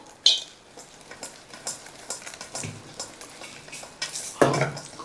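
Warm jaggery being stirred into groundnut powder on a plate, giving soft scraping and stirring strokes with light clinks of utensils, close and fairly quiet, with no talk.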